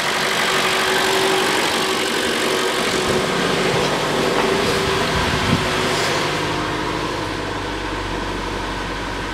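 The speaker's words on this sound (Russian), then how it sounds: "Все равно трясет двигатель." A Mitsubishi ASX with a 1.8 engine idles roughly and shakes, giving a steady close-up mechanical drone with irregular knocking pulses, running alone without talk.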